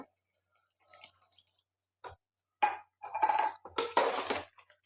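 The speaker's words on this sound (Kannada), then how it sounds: "ಈಗ ಸ್ವಲ್ಪ ನೀರು ಸೇರಿಸೋಣ" Water is added to a potato and spinach curry in a pan, heard as scattered drips, light clinks of a utensil, then a louder splashing pour near the end, all close and with no talk.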